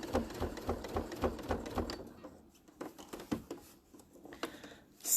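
A sewing machine doing free motion quilting runs in quick rhythmic bursts of stitching, pauses briefly, then resumes in shorter runs, close and fairly quiet.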